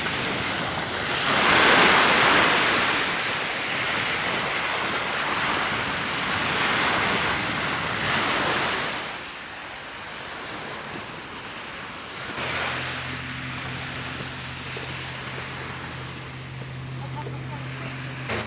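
Surf washing onto a secluded beach near Dover on the Kent coast, a broad steady roar of breaking waves with wind noise, swelling and easing over time; a low engine-like hum joins toward the end.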